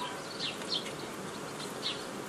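Honey bees buzz steadily around an open beehive during a summer oxalic acid treatment, a dense, close, continuous drone with a few louder passes of individual bees.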